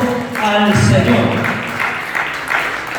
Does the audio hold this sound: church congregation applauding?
yes